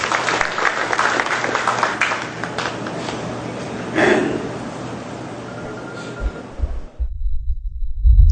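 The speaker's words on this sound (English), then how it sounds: "Let's give him a round of applause, please." Audience applauding an institute principal at a technical education conference, a broad crowd of clapping that thins out and fades away, followed by a brief quiet patch with low handling thumps near the end.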